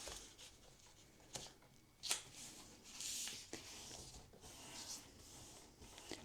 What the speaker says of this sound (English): you're going to fold it in half again